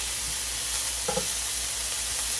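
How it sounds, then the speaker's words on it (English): About a tablespoon of butter sizzles on a hot griddle as a steady, dense hiss, with a faint scrape or tap in the middle and no voices. "I'm going to go ahead and put about a tablespoon or so of butter"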